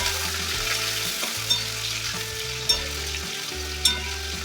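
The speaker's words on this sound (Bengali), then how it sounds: "তেলটা মধ্যে দেওয়ার পর আলুটাকে নাড়াচাড়া করে হালকা ভেজে নিতে হবে" Potatoes fry in hot oil for a Bengali banana stem dish, giving a constant loud sizzle with three crisp spoon taps as they are stirred, over a low musical backing.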